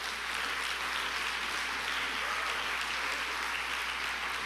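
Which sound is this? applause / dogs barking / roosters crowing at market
applause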